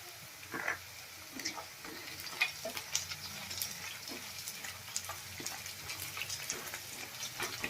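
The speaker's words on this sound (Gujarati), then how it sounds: "બે મિનિટ માટે આપણે એને પણ સાંતળી લેશું।" Green chillies and ginger sauté with onion in a pan for bateta pava, giving a steady low sizzle under repeated spoon stirring and scraping clicks, close and moderate, with no talking.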